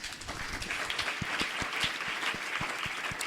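An audience at a panel discussion gives a round of applause, a dense wash of clapping with a few louder, distinct claps close by.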